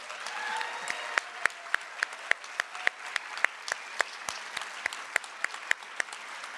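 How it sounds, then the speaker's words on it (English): An audience at an arts awards ceremony in Nebraska claps for the honorees, producing a thin, steady patter of distinct claps at an even, regular pace over a quiet room. "Let's just have one more round of applause for all of our honorees tonight."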